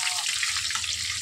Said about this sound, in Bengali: এবার বেগুন ভাজছি আর তারপর তরকারিটা বানাবো।